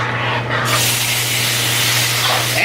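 Sliced chicken strips dropped into hot olive oil give a loud, steady hiss of sizzling, close up and continuous throughout, with a constant low hum behind it.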